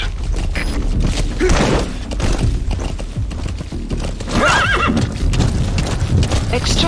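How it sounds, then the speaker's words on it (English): A horse in a military open-world video game whinnies twice and gallops with rapid clip-clopping hooves, loud and close, mixed with game sound effects and a voice speaking over it. "Use your horse."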